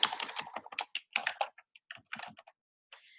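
Names being typed on a computer keyboard, heard as irregular bursts of quick, close, crisp key clicks with short pauses between runs.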